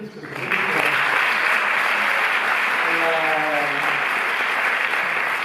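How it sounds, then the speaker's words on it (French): A cinema audience in Paris applauds the organisers of a film presentation, a full, sustained burst of clapping filling the hall after a brief voice at the start, with a faint voice surfacing midway. "vous pouvez les applaudir"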